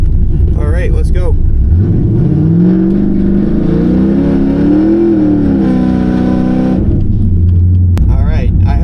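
An LS2-swapped El Camino launches on a drag pass, its V8 engine roaring loud and close as it climbs steadily through the revs for several seconds before lifting off, then settling into idle.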